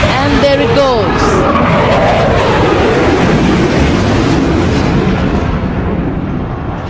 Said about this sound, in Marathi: A high-speed run at a low level and then a vertical climb.